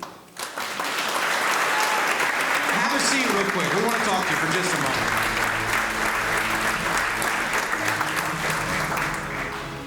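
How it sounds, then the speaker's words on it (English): Audience applause for Miss America's Teen Peyton Bowling at a city event in Bentonville, a loud sustained clapping crowd filling the room, with someone speaking over it near the start. "A round of applause for Miss America's teen, Peyton Bowling."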